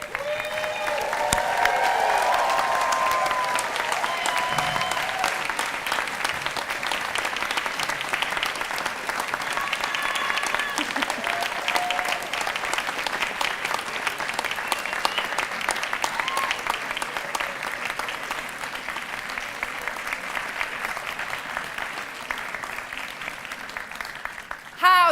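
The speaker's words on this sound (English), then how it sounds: "please put on your hats and we'll give you a round of applause" A large graduation audience at the University of Salford applauds its newest science and engineering graduates, a long, full, steady roar of clapping with some voices mixed in, gradually easing toward the end.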